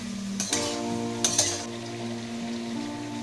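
A pan of potatoes frying for sabudana khichdi sizzles softly while a utensil clinks and scrapes against it a couple of times, with no voices.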